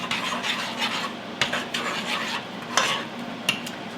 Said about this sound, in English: And to that then, I'm going to add 1/4 cup of granulated sugar. Kind of stir that in.